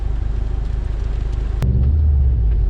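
A Subaru Impreza GC8 race car making about 330 all-wheel horsepower on a wet track gives a deep, loud engine rumble, pulsing close by, then jumping to a heavier, steadier drone after a sharp click.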